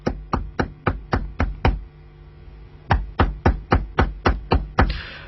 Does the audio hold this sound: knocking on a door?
yes